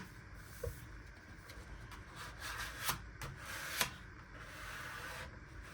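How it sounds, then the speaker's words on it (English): Burnishing tool rubbed over paper in a junk journal, a soft continuous scraping and rubbing with a few brief louder strokes, quiet and close over a low background hum. "I really like this for burnishing."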